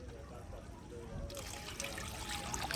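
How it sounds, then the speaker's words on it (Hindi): Water poured into a cooking pot for biryani, a steady rushing trickle that brightens and strengthens halfway through, close and continuous over kitchen background noise. "हाँ इसमें पानी डालो, 3 कटोरियाँ।"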